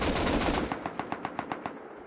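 Rapid automatic gunfire in the Rust video game: a dense opening burst followed by about nine evenly spaced, crisp shots tapering off, fairly close and alone without talk.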